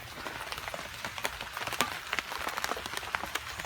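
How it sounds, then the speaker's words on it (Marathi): Rain patters steadily on a surface, with scattered louder drops tapping irregularly against a soft, constant hiss. "कसा पाऊस पडतो बघितला ना"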